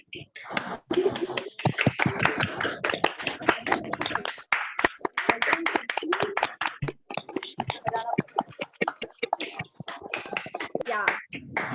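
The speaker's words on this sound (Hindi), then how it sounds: "देखिए तालियां बजती जा रही है।" Audience clapping at a live Hindi stage event where guests are called up, with dense, steady claps running the whole time under someone talking over a microphone.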